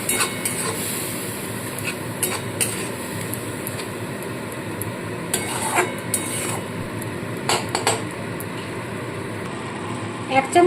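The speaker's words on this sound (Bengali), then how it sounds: "ভালো করে এবার সমানে কষাতে থাকবো" Shrimp masala being stirred and sautéed in a pan, with the spoon scraping and clinking against the metal in irregular bursts over a steady low sizzle and background hum.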